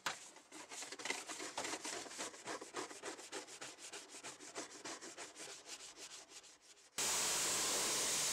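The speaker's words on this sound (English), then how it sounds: "used this in combination with a fairly stiff brush to give the arches a good scrub" A fairly stiff brush scrubs a Vauxhall Corsa's wheel arches after a spray cleaner, giving fast, steady, close scratchy strokes for about seven seconds before a sudden burst of loud hiss.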